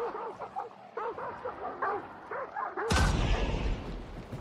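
Dogs bark in quick, repeated bursts at middle distance in the Hunt: Showdown video game, then a sudden loud blast of gunfire or an explosion cuts in near the end.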